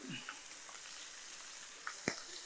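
Chicken pieces sizzle gently in a hot pan for a Tamil bottle gourd chicken thokku, a faint steady frying hiss with a couple of small clinks near the end.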